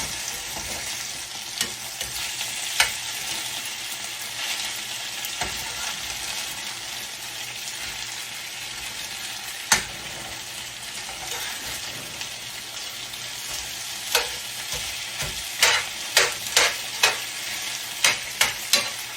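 Chicken gizzards fry in a pan after being flipped, a dense, steady sizzle throughout with scattered utensil taps that come as a quick run of clicks toward the end.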